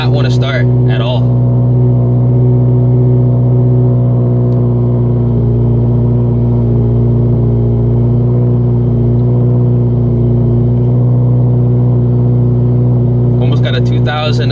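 A turbocharged Scion FR-S running on E85 sits on a dyno with its loud exhaust droning at a steady high idle throughout, while a person talks briefly at the start and again at the end.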